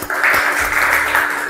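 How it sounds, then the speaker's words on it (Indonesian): A classroom group bursts into a short, loud round of clapping, close and continuous for a moment. "tepuk tangan dulu"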